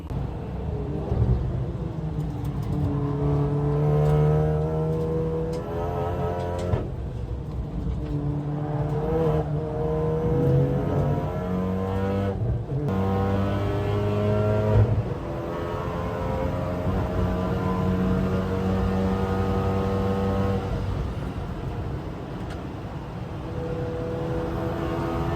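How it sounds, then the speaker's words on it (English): A Ford Fiesta ST track car drives hard around the Nürburgring, its engine droning and sweeping up and down through the gears with steady, loud revving and brief lifts between shifts. "Just went out in Luke's car and it is insane, as you will have just seen from the clips"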